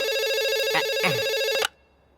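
A phone rings through a speakerphone with a bright, steady electronic ringtone that holds for over a second and a half and then cuts off abruptly.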